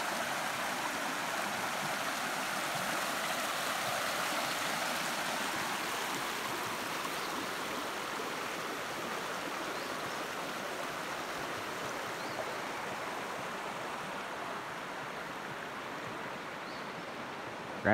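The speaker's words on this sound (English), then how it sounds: "We'll walk down to the creek that I have to cross." A creek near a rural trailer property flows in a steady, broadband rush of water that holds an even level throughout, close and continuous with no voices.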